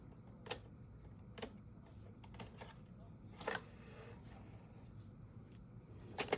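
A circular sock knitting machine's crank is turned while knitting a striped brimmed beanie, giving irregular light clicks and ticks over steady low mechanical whirring, with faint talk in the background.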